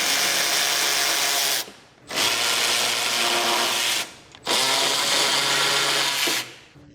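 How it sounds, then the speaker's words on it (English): Impact tool with a 14mm socket on a strut tower upper mounting nut during a 2006-2011 Honda Civic strut replacement: three loud, continuous whirring bursts, each about two seconds long, separated by brief pauses. "Use a 14mm socket to remove the strut tower upper mounting nut."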